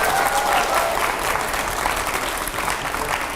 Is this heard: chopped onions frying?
no